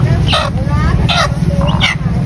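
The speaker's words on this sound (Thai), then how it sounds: "ไก่บ้านครับ" Village chickens at a morning market in Xepon, Savannakhet, Laos, give several loud clucking, squawking calls in quick succession, close by, over a steady crowd murmur with someone talking through them.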